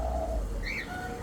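An alimokon dove just brought from Bicol and tied for the first time gives a soft, low cooing call, with a brief higher chirp partway through over steady background noise. There is no talking.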